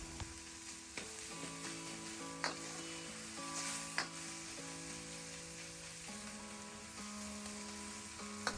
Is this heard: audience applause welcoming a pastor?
no